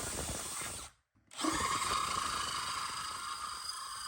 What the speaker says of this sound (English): Now I am drilling holes so I can go in with my jigsaw